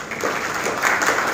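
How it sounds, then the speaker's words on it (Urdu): Audience applause at a book launch ceremony, a brief, dense burst of clapping from a seated crowd in a hall, fairly loud and alone. "آپ سب کی بھرپور تالیوں میں"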